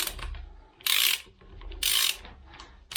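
A ratchet wrench tightens the damper pulley bolt on a Honda Civic EK3 D15Z06 engine, giving three loud, close bursts of rapid clicking spaced about a second apart, with quiet gaps between.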